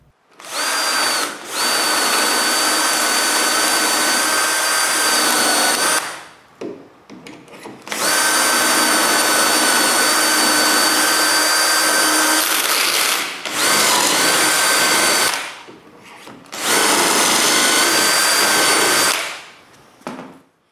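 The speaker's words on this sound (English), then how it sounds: "And drill the holes." Power drill boring dowel holes into wood through a doweling jig: four sustained high whining runs of several seconds each, close and loud, separated by short pauses.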